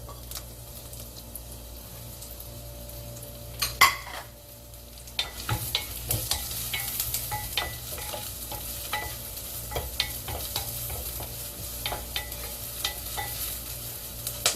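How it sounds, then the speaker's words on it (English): Green onion leeks frying in perilla oil for Korean soft tofu stew, a continuous close sizzle that swells after a brief pause, dotted with stirring ticks and spatula scrapes. "The green onion leeks coated with oil."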